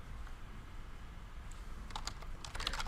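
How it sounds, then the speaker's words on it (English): A computer keyboard being typed on, with faint, sparse key clicks that pick up into a quicker burst toward the end. The sound is quiet and close, and no one talks over it. "Excuse the typing."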